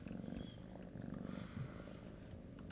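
A cat purrs close and soft, a low continuous rumbling with a steady pulsing rhythm that swells and eases over a few seconds, with nothing else over it.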